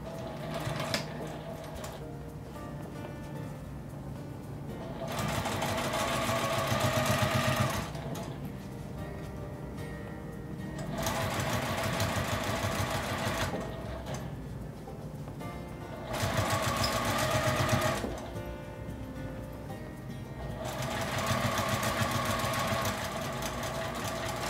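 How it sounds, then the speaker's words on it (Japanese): A domestic sewing machine stitches along the edge of fabric for a small pen case, running in four bursts of rapid mechanical whirring separated by quiet pauses. "布の端を縫います。"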